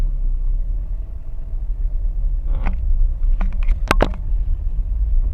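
Taxi car driving onto a lot after a station pickup: a steady low engine and road rumble runs throughout, with a few brief clicks and knocks near the middle.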